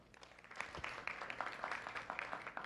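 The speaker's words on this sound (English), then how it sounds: "Let's give him one more round of applause." An audience applauds a guest presenter at a lunchtime talk, steady scattered clapping at low level, continuous and fairly distant with no voices over it.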